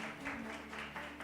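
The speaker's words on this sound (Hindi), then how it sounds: "इस बात पे तालियां तो बनती है, थोड़े एनर्जी के साथ।" Audience applause at an education summit hall, a steady wash of clapping with pulsing swells throughout the short stretch, moderately loud with a faint hum underneath.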